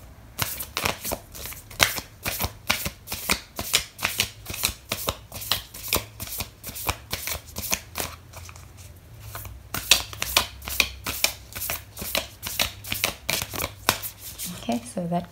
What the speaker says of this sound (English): I am going to pull out an oracle card for you